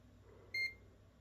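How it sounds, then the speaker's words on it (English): A relay cut-off circuit under test, with a solar panel and battery, gives a single short, clear electronic beep that is faint against quiet background hum. "The beeping drives me nuts."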